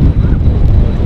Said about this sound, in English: Blast around in the wind there.